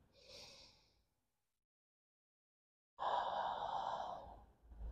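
Deep breaths taken during a yoga pose: a short breathy exhale, then about two seconds of silence, followed by a longer, louder, close rush of breath that runs to the end.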